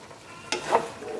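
Igado, an Ilocano pork dish, being stirred in a pan with a short scrape of the utensil over a soft sizzle, heard alone and close.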